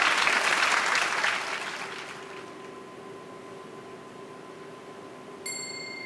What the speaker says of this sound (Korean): 두 분께 뜨거운 박수 부탁드리겠습니다.